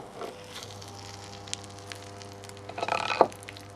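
A burning dishwasher pump motor coil gives off quiet crackling and sizzling, like frying, with scattered pops and a low steady hum, building into a louder burst of crackle near the end.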